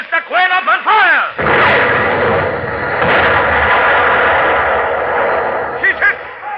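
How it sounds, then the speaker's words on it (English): Ship's guns open fire in a 1953 naval radio drama: after some brief whistling tones, a loud, sustained roar of artillery and booming rumble takes over for several seconds, with short shouted voices close to the end. "Open fire, Mr. Quinn! Open fire!"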